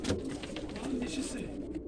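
Pigeons coo softly nearby in low throaty murmurs, including a female pigeon, while people talk over them.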